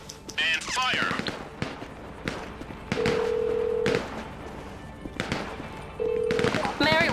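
Gunfire from a vehicle integrity test on an Insurgent LAPV Mark III armored truck in GTA Online: sharp bursts of shots crackle between steady electronic tones, with a voice briefly heard.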